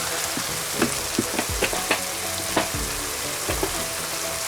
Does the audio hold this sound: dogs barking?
no